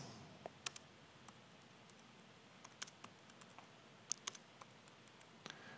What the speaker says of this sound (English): you get to watch me type live, which means there's going to be lots of typos and things